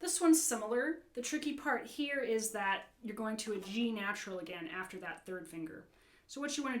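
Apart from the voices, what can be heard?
No everyday noises stand out.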